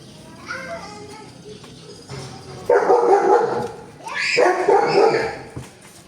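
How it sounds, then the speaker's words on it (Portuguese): A dog barks and yelps several times up close while a voice chatters and squeals nearby. "Criança mexendo com o cachorro, gente"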